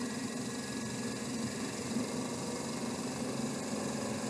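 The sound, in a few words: series electric motor running under load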